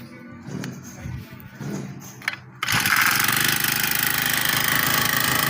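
A Honda GX35 brush cutter engine starts with a sharp burst, then runs steadily at a loud, buzzing high idle after some quieter mechanical clatter.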